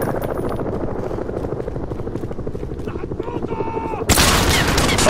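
Sustained machine gun fire in the Call of Duty Modern Warfare campaign, rapid dense bursts layered with loud battle noise and a helicopter-like drone, ending in a sudden louder blast of gunfire and chaos.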